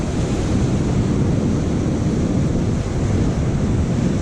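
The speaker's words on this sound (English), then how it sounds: "I hope the wind isn't too bad. It hasn't stopped. It's just a steady breeze." Steady wind on a winter beach, a constant loud roar of breeze across the microphone blended with distant surf, unbroken and even throughout.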